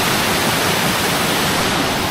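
Holme Force waterfall in the Lake District roars close by, a steady, dense rush of falling water that fills the scene loudly and evenly from start to finish, with no voices.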